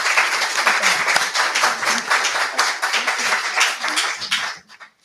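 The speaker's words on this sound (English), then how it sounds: "Let's give them a round of applause." Audience applause for school board candidates at a community forum, a close, lively burst of many hands clapping that runs for several seconds and then thins out to a few last claps.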